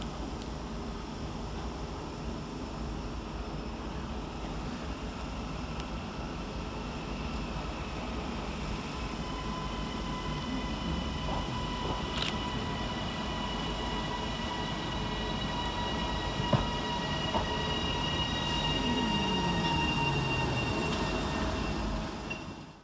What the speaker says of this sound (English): here comes our train in the form of 331022 and 331015, working 1334 Northern service from Hazel Grove to Blackpool North via Bolton